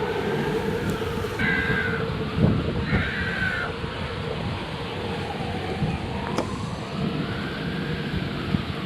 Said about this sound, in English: The noise from the passing trains is so loud.